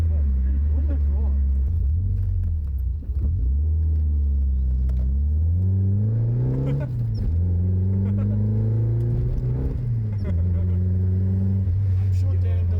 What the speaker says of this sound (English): us thrashing his car through the back street